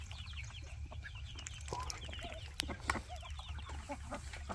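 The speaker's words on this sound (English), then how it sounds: "Well, I've never seen such thirsty chickens" Backyard chickens and ducks cluck and murmur softly in a morning coop, a steady scatter of faint calls with a couple of louder squawks over low background rumble.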